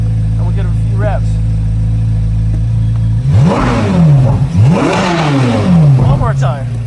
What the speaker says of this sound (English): we'll get a few revs.